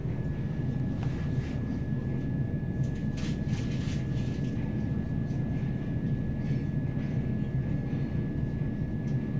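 Southern service train moving along the platform at a station on the Victoria to London Bridge route: a steady, loud low rumble and rolling rail noise, with a faint constant tone and a few brief metallic clicks.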